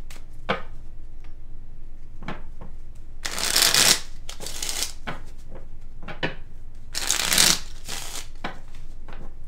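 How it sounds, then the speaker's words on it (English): Tarot cards riffled and bridged in two loud bursts, with soft taps and card handling between them, close up and without talk. "One more deck to shuffle through and we'll get started."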